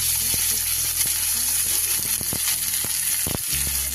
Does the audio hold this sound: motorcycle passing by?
no